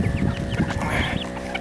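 Bantam chickens cluck close by on a homestead, a rapid series of short overlapping clucks among other farm birds, with no talk over them.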